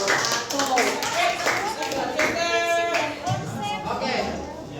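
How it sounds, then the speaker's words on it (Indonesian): A classroom of students clapping hands together, brisk and fairly close, mixed with voices and chatter running under and between the claps. "Oke, tepuk tangan dulu"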